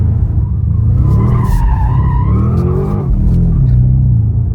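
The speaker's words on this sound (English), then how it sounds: "Going sideways, the car sometimes lets off the gas" A BMW M5 G90 slides sideways on a tiny, narrow road, its tires squealing steadily under a loud, sustained engine drone, close and continuous throughout.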